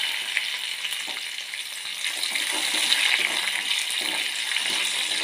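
Spice masala for mulaku meen curry fries in a pan, a loud, dense and steady sizzle with faint stirring scrapes, heard close up with no talking.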